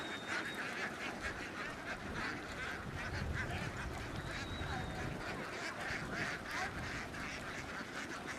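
A flock of ducks on a semi-free-range farm with pastures, mudflats and small canals, quacking steadily and overlapping at a moderate distance in a continuous, even din with no talk.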